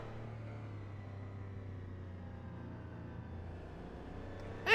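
A loud race car engine in a racing video game drones at a low, steady pitch close up, ending in a sudden sharp burst of noise.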